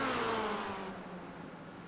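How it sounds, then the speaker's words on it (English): A racing car in the iRacing sim brakes hard into a chicane at Monza, its engine note sweeping steeply downward as revs drop, loud and continuous, fading slightly over two seconds. "just listen to the braking"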